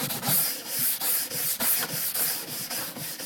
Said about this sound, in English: I'm now going to take it with this nylon brush, and just all I'm doing it quickly, and this is basically just polishing it